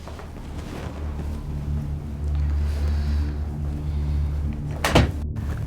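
An indoor door swings open with a single brief clatter near the end, heard over a steady low room hum with no talking.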